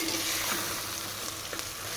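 Mutton frying in a pan over medium heat with chilli powder, stirred steadily, giving a continuous close sizzle with soft scraping strokes and no talk.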